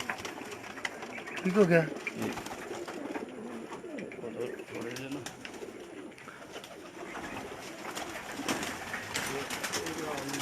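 Teddy pigeons cooing in soft, repeated throaty calls, loudest early on, mixed with ongoing conversation and background chatter.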